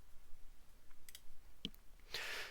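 A few faint computer mouse clicks in dashboard software, a couple of sharp ticks followed by a brief soft rustle, close and quiet with no talking.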